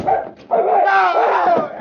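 A big dog barks sharply in a vintage radio drama, two loud close barks with a whining, yelping edge, the second drawn out, heard alone.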